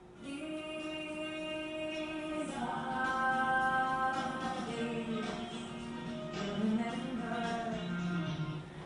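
A lone singing voice holds long, sustained notes that rise and shift, with a thin, slightly hollow quality and faint traces of accompaniment beneath.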